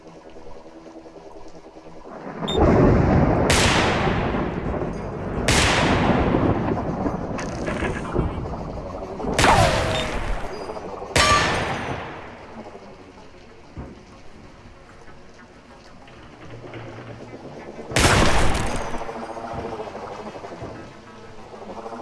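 Gunfire in the shooting game Receiver 2, about six sharp, loud reports spaced irregularly several seconds apart, each with a decaying tail, over a low background bed.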